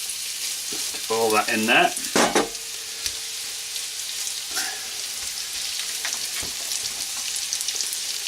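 Beef dropped into very hot oil for sesame seed beef, with garlic and five-spice, sets off a steady close sizzle and frying crackle. It runs through the whole clip under brief spoken remarks, with a burst of clatter near the start.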